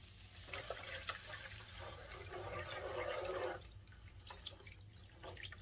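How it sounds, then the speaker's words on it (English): Water, 2 1/4 cups, pours into a mixing bowl for a sauce, a faint steady splashing stream that swells and then stops, quiet and close with no speech. "And then we're going to add, it says 2 1/4 cups of water."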